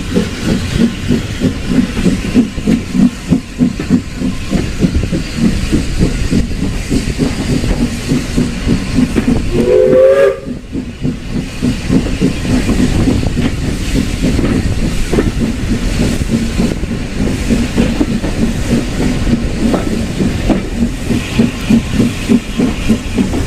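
Stephenson's steam railway train pulling away, a steady rumbling, clattering roll with hiss continuing throughout, loud and close, with a brief squeal of wheels or whistle partway through; no voices.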